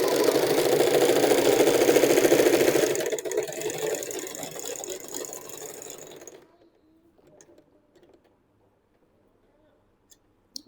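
A USHA Janome sewing machine runs a normal stitch with a steady mechanical whirring chatter for about three seconds, then slows and winds down to quiet with a few faint clicks and a sharp tap at the end.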